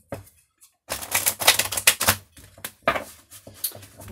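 A deck of cards is shuffled close by in quick bursts of crisp, riffling clicks separated by brief pauses, with no talk.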